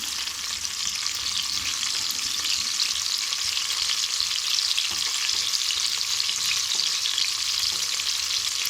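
Curry leaves frying in hot oil for tomato rice, a steady loud sizzle and hiss that holds unbroken from start to finish with no talking.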